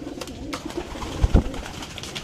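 A large pigeon in a racing-pigeon loft gives a short, low coo near the middle, set against quiet background noise.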